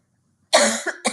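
Several harsh coughs from a person, one long burst followed by two shorter ones, close and loud after a moment of near silence.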